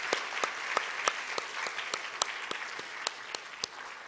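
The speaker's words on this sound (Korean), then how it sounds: "그 박수 격려해 주세요." A church congregation claps together during a Sunday morning worship service, a dense steady applause of many hands with sharp individual claps standing out, sustained and fairly close throughout.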